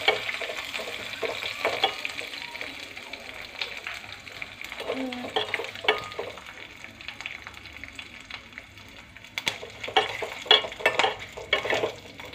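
Curry leaves and dried red chillies crackle and sizzle in hot oil in a pan, with stirring and scraping close by, while a voice speaks intermittently over the frying.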